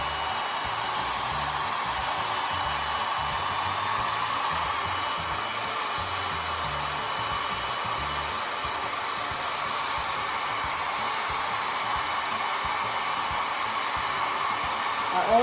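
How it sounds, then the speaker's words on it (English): A new heat gun set to high blows hot air in a loud, constant rushing hiss with a low motor hum, sustained evenly from start to finish with no voices. "Our old heat gun blew hotter on one side than it did on the other, so I got a new one."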